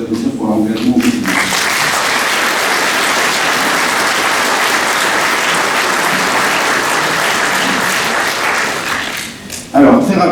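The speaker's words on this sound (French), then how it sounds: "je vous propose de les applaudir pour leur engagement au quotidien" Sustained applause from an audience at a town New Year's greetings event, honouring local elected officials; dense, steady clapping fills about nine seconds before tapering off, with a voice returning at the end.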